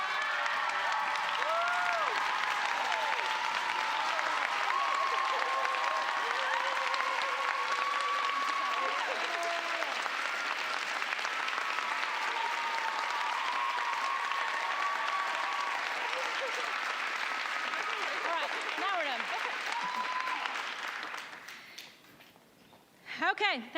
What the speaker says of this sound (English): Please give her a standing ovation